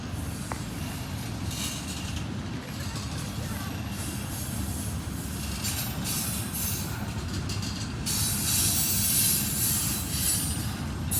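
A train rolls past in Plymouth, Michigan, producing a continuous low rumbling grind of wheels on rail with faint squeals and a rising hiss toward the end, fairly close and steady.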